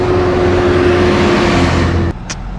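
Road traffic of cars and trucks in Pakistan: a loud, close, continuous engine and road roar with a steady hum, cutting off abruptly near the end.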